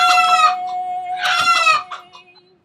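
A chicken clucks and a rooster crows in a brief, fairly loud burst of fowl calls from a short comedy film. The calls come in two close bursts, then fade out, with no talking.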